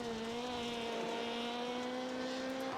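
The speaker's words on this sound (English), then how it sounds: "And then back on the throttle." A race car engine comes back on the throttle after a tight third-gear corner, giving a steady, faintly rising tonal drone heard at a distance and fairly quiet, with no talk over it.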